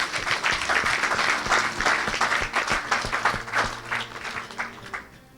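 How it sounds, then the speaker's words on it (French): A church congregation applauds and cheers at a sermon, with dense sustained clapping throughout, a few louder bursts, and a crowd murmur underneath. "Tu peux l'acclamer aussi si tu veux."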